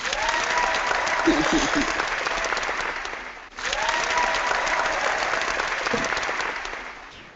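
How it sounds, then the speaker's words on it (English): Recorded applause, a thick, continuous roar of many hands clapping at constant loudness, briefly cutting out midway before resuming as if the same burst were replayed, with faint voices in the background. "Give him a round of applause."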